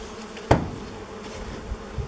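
Bees swarm and buzz around frames pulled from an old beehive left unopened for over thirty years, a steady low hum with one sharp knock or bump near the start.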